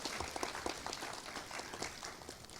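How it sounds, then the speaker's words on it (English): Audience applause at a school Cum Laude Society induction ceremony, a steady, fairly faint patter of many hands clapping throughout. "You may applaud."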